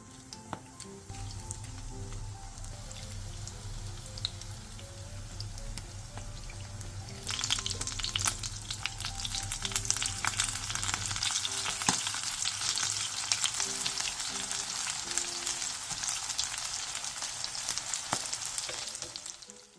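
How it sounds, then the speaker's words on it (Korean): Batter-coated oysters pan-frying in oil for Korean oyster pancakes make a steady close sizzle that turns louder and crackling partway through, with light scraping from turning the pieces. "팬에 기름을 두른 뒤 굴을 올려 앞뒤로 노릇노릇하게 붙여주세요."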